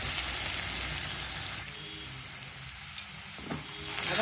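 Pieces sizzling in hot oil for sabudana khichdi, a steady close frying hiss that thins midway, with a couple of brief clinks from stirring.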